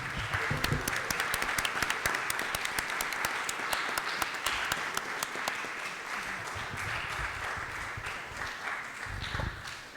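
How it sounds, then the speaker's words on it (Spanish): Audience at a university agronomy faculty open day gives a strong round of applause, a loud, dense clapping crowd that holds steady for about ten seconds and thins slightly toward the end, with faint voices mixed in. "le damos un fuerte aplauso."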